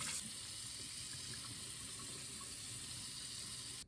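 Tap water pours steadily into a kitchen sink while dishes are washed, a continuous close, bright splashing hiss that runs evenly for nearly four seconds before cutting off abruptly.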